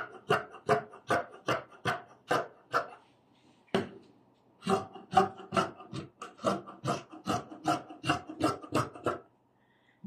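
Scissors cut through fabric to shape a scoop neckline. The close, crisp snips come in a steady rhythm, pause briefly, then carry on in a longer run. No one speaks.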